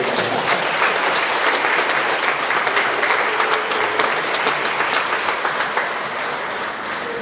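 Church congregation clapping at a pastor's installation service, dense continuous applause throughout, loud and steady, easing slightly at the very end.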